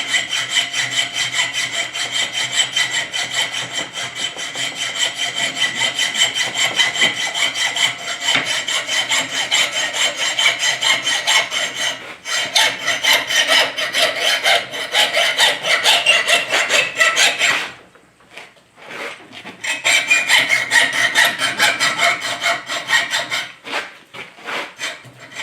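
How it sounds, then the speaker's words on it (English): A hacksaw cuts off part of a Ford V8 thermostat housing in rapid, rhythmic back-and-forth rasping strokes, close and loud, with brief pauses partway through. "So I'm just going to take this off with a hacksaw."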